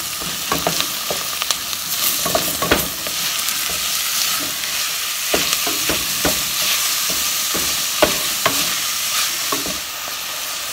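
Minced meat frying in a hot pan while being stirred, with a steady loud sizzle broken by repeated scraping clacks of a utensil against the pan.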